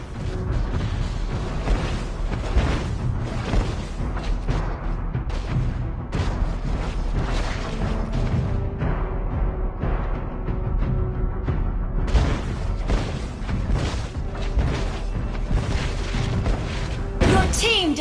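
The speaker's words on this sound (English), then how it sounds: "Your team destroyed a turret." A turret is destroyed in the Mobile Legends mobile game amid a dense, continuous mix of booming impacts, mechanical clanks and spell effects from a busy team fight, loud throughout.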